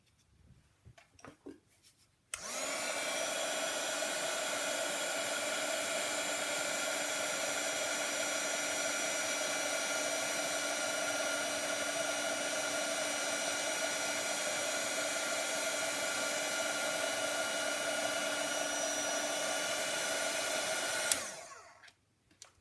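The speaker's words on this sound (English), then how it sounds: "Okay, so I'm going to heat set this." Heat embossing tool heat-setting embossing powder, a steady blowing whir like a small hair dryer that switches on, runs evenly for about twenty seconds, then cuts off.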